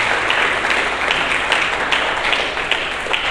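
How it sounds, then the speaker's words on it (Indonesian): A church congregation applauding during an Indonesian sermon, a dense, steady wash of many hands clapping at close range, sustained evenly throughout without a break. "Mari kita berikan tepuk tangan bagi Yesus."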